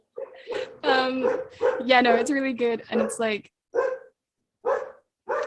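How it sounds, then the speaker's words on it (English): Dogs bark and yip nearby at a home during an online call, mixed in with a person talking. The barking continues in short, separate bursts after the speech stops. "I'm sorry about the dogs barking."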